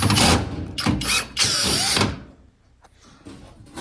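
Short bursts of a power screwdriver driving Phillips head screws to fasten a bracket on a GE washing machine, three whirring runs close up followed by quieter handling clicks.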